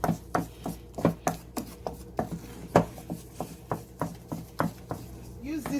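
Blended bean batter for Nigerian akara, with onions and salt, is stirred by hand in a bowl, giving a quiet series of rhythmic scraping, slapping strokes about twice per second.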